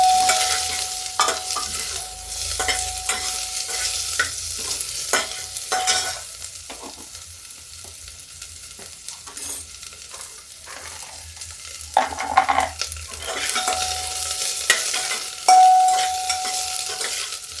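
Onions fry in hot oil with cumin seeds and a bay leaf while a spoon stirs them, producing a close sizzle broken by repeated scraping strokes, with a sharper burst of crackling in places.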